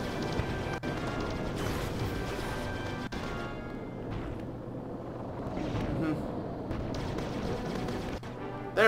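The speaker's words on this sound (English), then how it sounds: "These explosions would do Michael Bay proud." Repeated booming blasts and crashes from the video game Aquaman: Battle for Atlantis, dense and loud, with rumbling debris between hits and no talking.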